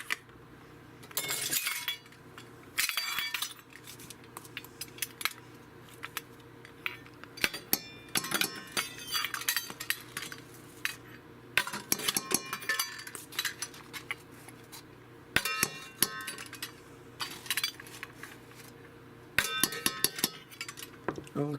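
A spoon clinks lightly against a container and dishes while buttermilk powder is measured out, producing scattered, faint metallic taps and clatters in irregular bursts across a quiet kitchen.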